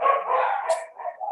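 A dog gives a couple of short barks, fairly close and clear, with no talk over them.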